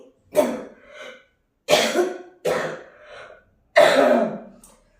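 A persistent, harsh cough comes in four separate loud fits, each a burst of hacking followed by a short tail, with brief silent gaps between them and no talking.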